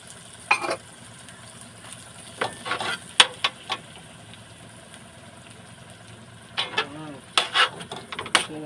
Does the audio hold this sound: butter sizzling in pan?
yes